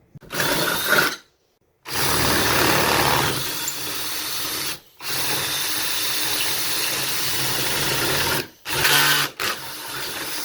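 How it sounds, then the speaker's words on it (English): A power drill runs in long sustained bursts, boring 3/8-inch holes through a steel exterior door with a steady grinding whir, pausing briefly between runs. "now I'll drill them out to 3/8"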